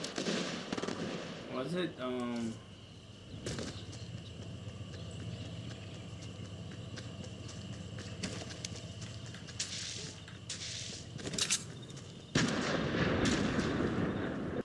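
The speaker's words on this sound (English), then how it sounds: "Who's shooting me from this far?" Gunfire in the video game Fortnite: a few sharp shots ring out, seemingly from a distance, under a steady game background, with a voice speaking briefly near the start.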